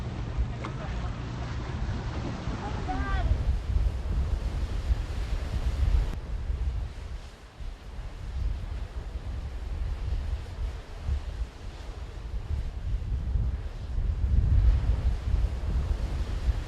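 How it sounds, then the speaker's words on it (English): Molten lava pouring into ocean water makes a steady, loud broadband roar and hiss, like churning surf mixed with wind, lasting throughout with brief talking early on. "That's lava hitting the water."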